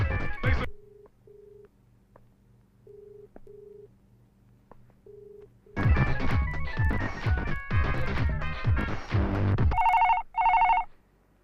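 A telephone rings unanswered, heard as faint, evenly spaced ring tones over a quiet background. Loud music with a beat then cuts in, and a few bright electronic beeps close the passage.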